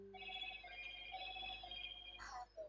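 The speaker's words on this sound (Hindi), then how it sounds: "आ गया फोन।" A quiet phone ringtone plays a steady electronic melody of sustained tones, faint and continuous, ending with a short tonal beep.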